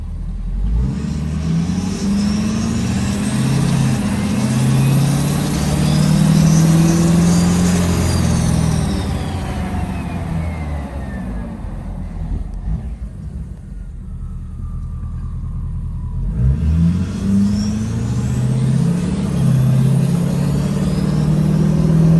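A compound-turbo Powerstroke diesel truck with upgraded parts revs hard with a loud, deep engine roar and rising turbo whine, drops back briefly, then revs up again, heard from inside the cab.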